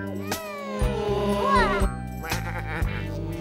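Cartoon sheep bleating in a children's animated show, several wavering bleats in quick succession, close and clear over a simple musical backing.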